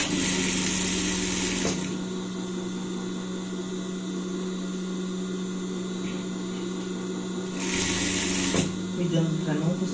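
Sewing machine stitching fabric for a reversible Christmas and New Year pet outfit, with a steady mechanical whir running in two loud bursts at the start and near the end, and a quieter hum between, as someone talks.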